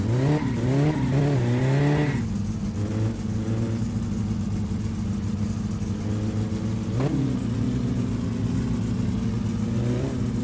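A car engine in the driving game My Summer Car revs hard with rising pitch sweeps, then settles into a loud, sustained racing drone, with another brief rev-up partway through.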